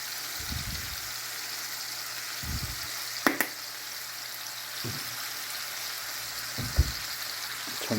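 Pork steaks dusted with Louisiana Cajun seasoning fry in a pan with a steady, moderate sizzle and crackle, broken by a few low thumps and sharp clicks as the meat is flipped and handled.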